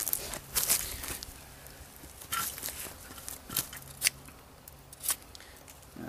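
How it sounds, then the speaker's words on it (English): A Becker BK-16 short drop point knife bites into wood in a series of sharp, irregular cutting strokes, close and fairly quiet, with gaps of low background noise between the chops. "It does bite into the wood if you want it to."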